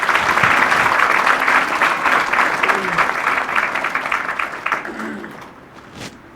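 Audience applause at a Hindi spiritual satsang gathering, a steady wash of many hands clapping that runs for several seconds and tapers off toward the end, with faint voices underneath.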